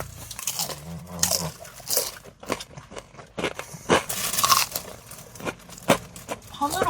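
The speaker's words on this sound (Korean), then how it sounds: "아 근데 치킨도 엄청 바삭바삭하네요." Crispy fried chicken being bitten and chewed, a string of close, irregular crunches between pauses, with people talking in between bites.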